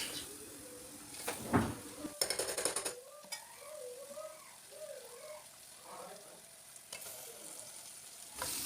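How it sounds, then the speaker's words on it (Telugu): Mutton with ginger garlic paste and turmeric sizzles and frys in hot oil for a Telugu mutton curry, with a spoon scraping and stirring in bursts while someone talks over the crackle. "మటన్ వేసుకొని కలుపుకోవాలండి."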